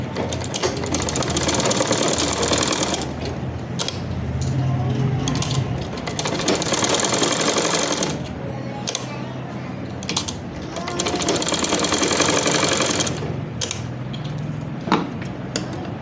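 A sewing machine stitches elastic into a shalwar in several runs of rapid mechanical whirring and clatter, broken by short pauses, close and steady with no talk.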